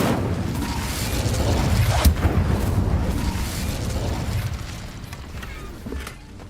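Incendio fire spell cast in Hogwarts Legacy, a deep rumbling whoosh with a sharp blast that swells and then slowly fades, loud and close.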